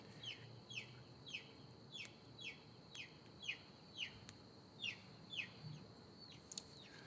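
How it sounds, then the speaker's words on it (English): Repeated high chirping peeps from baby chicks, about a dozen evenly spaced calls at a steady rhythm, faint and somewhat distant over a low background hum, with no talking. "you hear those little babies calling out for their kin"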